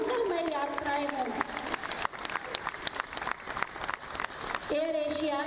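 Loud crowd applause at an airline launch ceremony with the chief minister in Lucknow, sustained clapping filling the space while someone speaks over it at the start and end.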